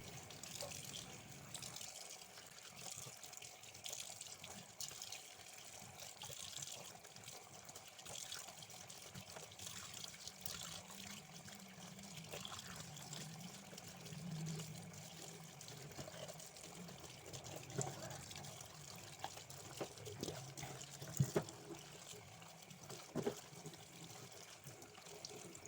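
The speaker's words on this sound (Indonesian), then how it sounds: "Ini daunnya dicuci di air mengalir, diusap-usap satu persatu ya supaya bersih." Tap water runs steadily over noni leaves as they are rubbed clean one by one at a kitchen sink. The soft, continuous splashing and trickling carry on throughout, with small clinks and shifts near the end.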